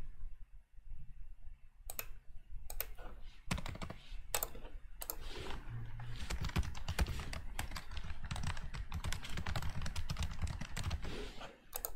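Someone types on a computer keyboard, entering a reason into a form: scattered clicks at first, then a dense, steady run of keystrokes close to the mic, with no talking.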